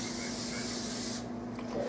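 Cooking spray hisses from an aerosol can into a baking pan while a pumpkin roll is being prepared, a steady close spray lasting just over a second before cutting off, followed by quiet kitchen room tone.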